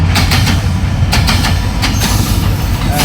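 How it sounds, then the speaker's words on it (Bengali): A train rumbles past close by, steady low roar with rhythmic clatter of wheels over rail joints throughout. "ট্রেন দেখতে পাচ্ছি ট্রেনটা যাওয়ার পরে আমরা আবার শুরু করব"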